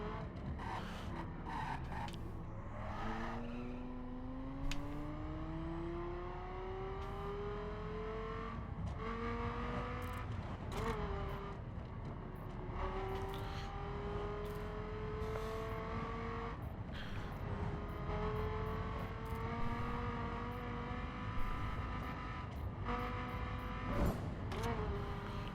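A car is driven in The Crew, its engine climbing through gears in repeated rising sweeps, each revving up and dropping at the shift, loud and steady throughout.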